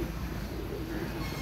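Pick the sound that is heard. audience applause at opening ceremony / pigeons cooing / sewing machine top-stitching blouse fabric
pigeons cooing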